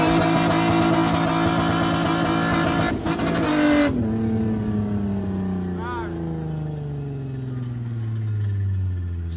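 A car drifting at a street spinning session in Cape Town, its engine screaming at high revs before dropping into long falling and rising pitch sweeps as the car slides, loud and close with some crowd noise.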